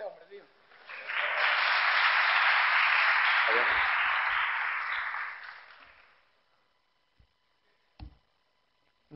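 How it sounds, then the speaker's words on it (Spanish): A comedy show audience breaks into broad applause lasting about five seconds, loud and dense, then fading out to near silence with a couple of faint thumps. "Otro aplauso para ese hombre"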